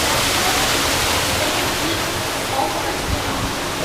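Steady rushing water from behind an aquarium-style waterfall feature, a loud continuous roar filling the space with no speech over it.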